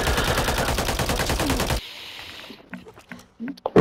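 Rapid bursts of automatic gunfire in a shooter video game ring out loud and dense for nearly two seconds, then stop, leaving a few quieter clicks and game sounds.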